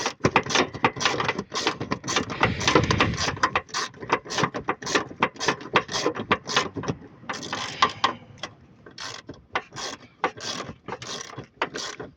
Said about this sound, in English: And now let's go underneath the van and undo the bolts.